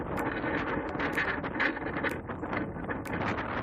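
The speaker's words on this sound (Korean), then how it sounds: "그리고 바람 소리가 엄청 나죠" Strong wind in Torres del Paine, Patagonia, Chile, buffets the microphone in a constant roaring rush with gusty bursts, loud and unbroken throughout.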